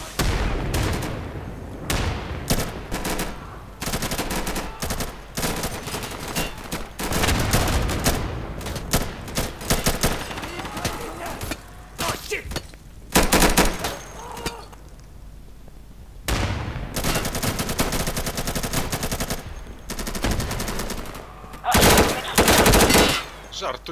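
Dense automatic and single gunshots from the tactical shooter game Insurgency, loud and close in repeated bursts with brief lulls, and a player's voice speaking between the volleys.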